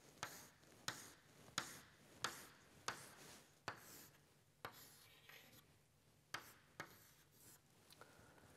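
Someone writes a diagram on a board, making faint, regular strokes roughly every second, each a sharp tap followed by a short scratchy drag, in a quiet room without speech.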